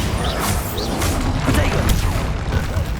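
A Bombarda blasting spell erupts in Hogwarts Legacy, a loud, dense explosive burst with crashing debris filling the whole moment of combat, close and sustained for a few seconds.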